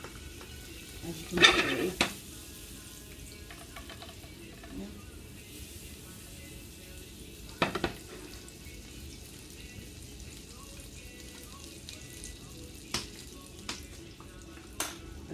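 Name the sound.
butter sizzling in a frying pan for pancakes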